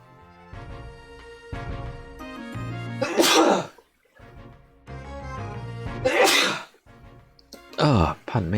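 Three loud, forceful sneezes from someone with a cold, each preceded by a brief breath and spaced a few seconds apart, heard close up over a light music background.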